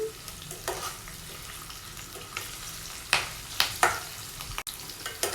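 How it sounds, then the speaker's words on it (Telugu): Steady oil sizzle from a frying pan of tempering for a cabbage fry, broken by several sharp scraping stirs of a spatula against the pan, no voices. "ఇలా మధ్య మధ్యలో మిక్స్ చేసుకుంటూ ఫ్రై చేసుకోవాలండి"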